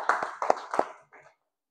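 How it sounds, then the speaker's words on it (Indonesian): A few claps in a classroom after a student presentation on fashion products, sharp close hand claps in a short uneven run of about four beats, followed by two faint softer claps and then silence. "beri tepuk tangan"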